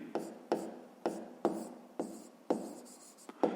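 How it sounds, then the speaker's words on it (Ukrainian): A pen writes on paper in short bursts, with a series of distinct scratchy strokes and taps close up during a fifth-grade maths lesson. "Давайте так і запишемо"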